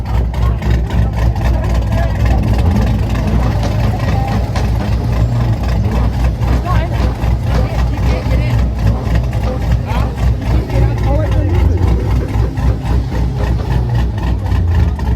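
A car at a meet in a Steak n' Shake parking lot rumbles with a loud, continuous low engine drone and rhythmic pulsing revs, while voices chatter nearby over the engine throughout.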